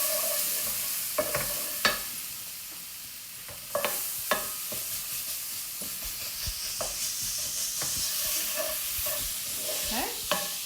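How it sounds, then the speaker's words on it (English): Spices for a mushy pea curry sizzle and fry in a pan, with a steady hiss broken by scattered clacks and scrapes of stirring, close and continuous. "Make sure all the spices are being cooked, because you don't want to eat raw spices."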